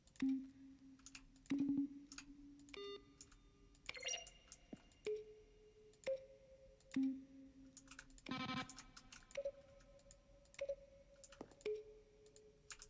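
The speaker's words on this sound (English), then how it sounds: "Each sound is a mix of a keyboard stroke and a synthesized tone." Button presses from the video game The Stanley Parable: Ultra Deluxe, each a keyboard-stroke click blended with a short synthesized tone, repeating at irregular intervals with differing pitches, clear and alone.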